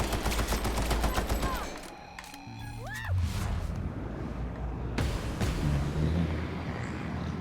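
Gunfire in The Outer Worlds during a raid on a geothermal plant, with loud rapid bursts at the start, a short lull, then further shots and impacts under the game's ambient noise.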